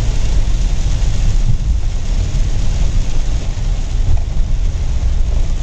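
A heavy monsoon downpour in Nandurbar drums on a car from inside, a dense, loud, continuous roar of rain with low rumbling and no speech.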